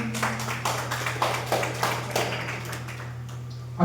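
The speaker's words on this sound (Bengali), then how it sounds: "চন্দনের হাততালি সবাই।" A group applauds for Chandan at a school Teachers' Day program, producing steady, moderately loud clapping that continues for several seconds over a constant low electrical hum.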